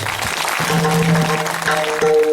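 A kirtan audience in Waghapur claps loudly and steadily for the veena and cymbal players, a dense wash of applause with sustained instrumental tones ringing underneath.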